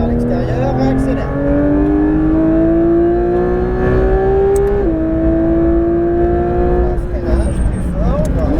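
A Porsche 992 GT3 RS accelerates hard on a race track, its loud engine note climbing steadily, then dropping briefly at gear changes before rising again, heard from inside the car while an instructor talks over it.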